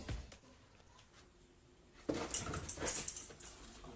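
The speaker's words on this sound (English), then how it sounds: "Now here's how our dogs can help us during workouts." Dog during its owner's workout: faint soft sounds at first, then a sudden cluster of close whimpers and yips with panting, arriving in short uneven bursts.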